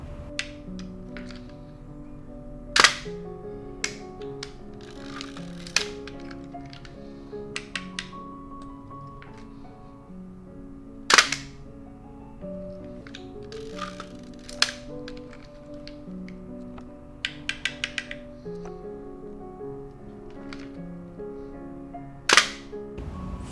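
Film camera shutter fired repeatedly at different speeds, a series of sharp mechanical clicks spaced a few seconds apart, some single and quick, others a longer double snap, over a steady background hum of music.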